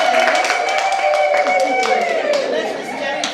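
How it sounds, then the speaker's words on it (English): An audience at a Soroptimist chapter launch event in Embu, Kenya, claps for a member, a brisk burst of clapping mixed with chatter and a singing or ululating voice close by. "We'll clap our hands for Irene"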